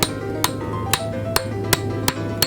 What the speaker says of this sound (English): we just start by breaking this out with a hammer